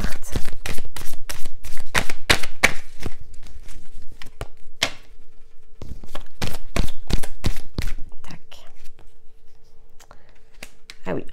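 Oracle cards from a witches' wisdom deck being shuffled by hand, a run of quick crisp riffling flicks in two bursts with a short pause between, close and fairly loud.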